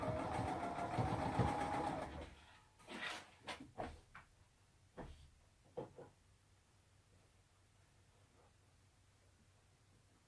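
A sewing machine stitches a quilted flower pillow in a short steady whir for about two seconds, followed by several quiet clicks and knocks; the whole passage is faint.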